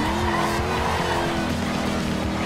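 Car sliding sideways in a Forza Horizon 2 drift, loud continuous tire squeal over a revving engine, close and sustained without a break.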